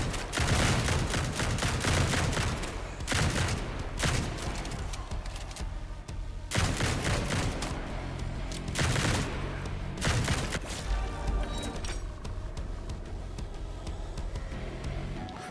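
Rapid gunfire in the survivor-style shooter game Grind Survivors, loud bursts repeating every second or two over a constant clatter of weapons and game effects, sustained throughout without speech.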